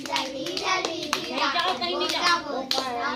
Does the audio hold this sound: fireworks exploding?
no